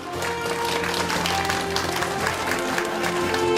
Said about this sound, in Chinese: 我们热烈掌声来欢迎好不好？ 好客风情秀，掌声欢迎。